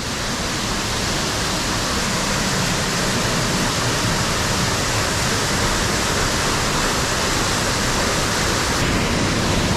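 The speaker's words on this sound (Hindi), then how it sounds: "यहाँ पे एक मुझे बड़ा झरना दिखा" Large jungle waterfall roaring steadily and loudly, a dense unbroken rush of falling water close by with no voices.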